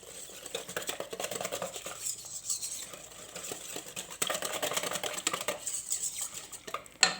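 Semolina being stirred in a bowl, a steady scraping and clinking of a utensil against the bowl, continuous and close, with a louder knock near the end.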